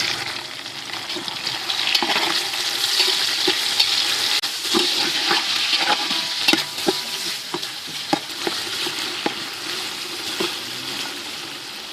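Tomatoes hit browned onions for village-style matar pulao, frying with a steady close sizzle while a spoon scrapes and stirs in repeated short clacks against the pan throughout.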